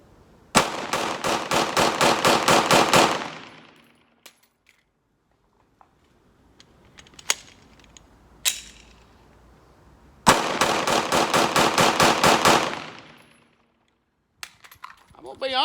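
Two long bursts of rapid pistol fire from a Glock 19c, each a dense string of sharp, loud shots lasting a few seconds, separated by a quiet pause with scattered clicks and handling noises.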